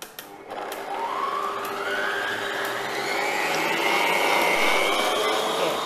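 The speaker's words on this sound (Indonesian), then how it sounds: "Lalu kita mixer kembali, full speed kurang lebih sekitar 2 menit." A Noble stand mixer runs at full speed while mixing sugar and emulsifier, a steady whirring motor whine that rises slightly in pitch and grows louder over the stretch, with no talk.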